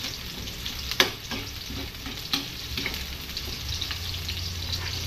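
Food sautés in a frying pan with a continuous close sizzle, a few sharp stirring clinks and scrapes against the pan, and no voices.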